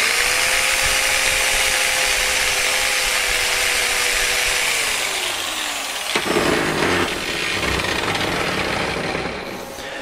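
A power tool wire brush scours freshly welded metal, a loud continuous abrasive whirring roar with a pitch that sags then shifts as the brush bites, close and unbroken, with no talk.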